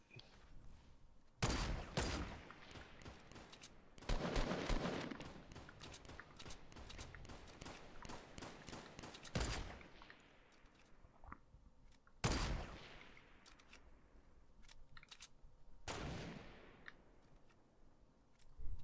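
In the Fortnite battle royale video game, bursts of gunfire sound in several loud volleys, some as rapid fusillades and others as single sharp blasts with decaying tails, and no one talks over them.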